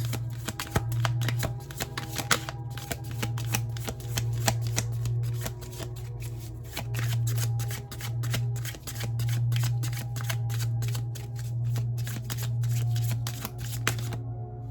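A deck of Cosmic Oracle cards is shuffled over and over in quick riffling bursts, close and crisp, with a steady low hum underneath.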